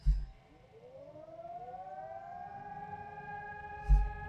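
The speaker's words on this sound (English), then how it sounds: "Now I hear the siren." A civil defense siren in the horror video game Siren Head winds up slowly from a low pitch to a sustained wailing tone, moderately loud, with a couple of dull thumps.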